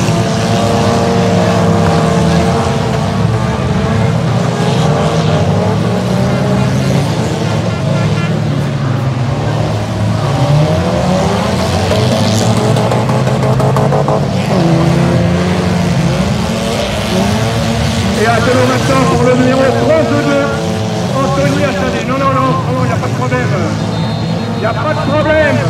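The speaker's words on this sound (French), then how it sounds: "Alors, Frédéric Deville a redémarré son moteur" A Super Stock Car race car engine fired back up and running at a Villabon oval race, a loud, steady throaty drone with shifting revs throughout, with a commentator talking over it.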